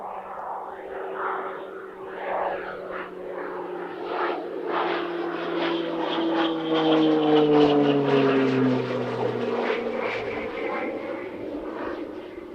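A Polish Air Force PZL-130 Orlik trainer with a Pratt & Whitney PT6A turboprop engine flies past at an airshow in Leszno, its droning propeller hum rising and falling in pitch as it passes, loud and steady.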